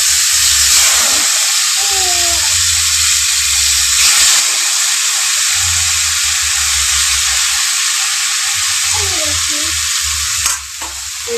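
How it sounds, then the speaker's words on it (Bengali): Fish sizzles loudly in a pan of hot oil, a dense continuous hiss up close with occasional stirring scrapes and a brief change in texture near the end. "এই মাছগুলোকে এখন ভেজে নিচ্ছি।"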